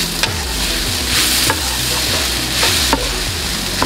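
Raw banana for ethakka podimas being stirred and fried in a pan, a steady close sizzle with several sharp scraping strokes of a spoon against the pan at regular intervals, no talk.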